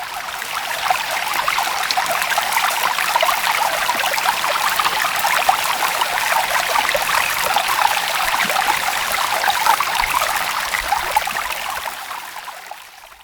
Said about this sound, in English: the sound of water flowing in a nearby stream.